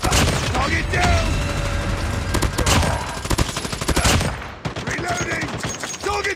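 Rapid PDW-57 gunfire in Call of Duty Mobile, dense automatic bursts firing near and loud with brief pauses, over game noise and shouted callouts.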